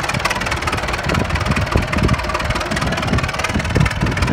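A Massey tractor engine runs steadily after a cold start in snow, a loud, close, rough idle with a constant knocking rumble and no talk.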